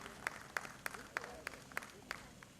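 An audience at the Patrika Keynote 2025 event in Bhopal claps to welcome a guest on stage, a faint, steady rhythmic clapping with a murmur of voices beneath.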